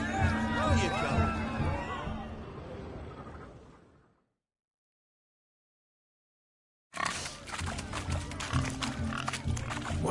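Pigs squealing and oinking in a video game, a loud squealing chorus that fades out into silence, then a noisy burst of grunts and crowd commotion returns.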